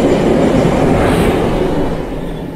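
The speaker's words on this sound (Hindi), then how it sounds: "सामने से एक और ट्रेन" A train rumbles past close by with a steady, loud roar and faint clickety-clack of wheels on rail, heard along a route from Amsterdam toward Zermatt, Switzerland; the noise stays constant before easing slightly toward the end.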